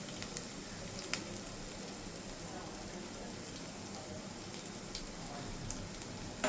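Green chillies and spices frying in a pan for a restaurant-style palak paneer, giving a steady, fairly quiet broadband sizzle with a few faint pops, no talk over it.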